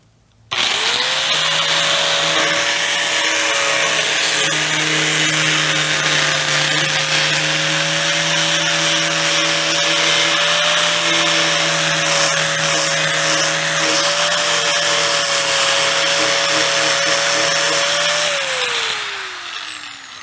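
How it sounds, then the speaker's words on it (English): An angle grinder whines at a steady high pitch for about eighteen seconds as it grinds dried epoxy off a project, loud and close, then winds down at the end. "pay attention to which way your grinder's spinning, because it's either going to kick the dust back at you or kick it away from you."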